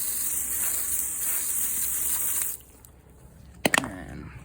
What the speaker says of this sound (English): I got this new flex hose from Amazon.